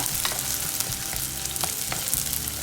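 Brinjal sautés in a pan for Palakkad-style brinjal puli, a dense, continuous sizzle with light stirring scrapes and small crackles throughout, close up and with no voices.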